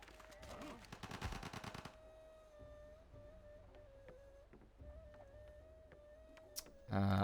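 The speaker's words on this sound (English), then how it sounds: "Gatling gun can shoot this guy." Rapid Gatling gun fire in a strategy video game, a dense burst of quick shots for about two seconds, followed by quieter scattered game ticks under a steady tone.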